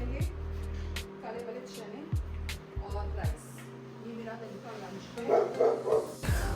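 A pet dog at home barks in several sharp, close yips and woofs, with a steady low hum running beneath and a voice speaking near the end.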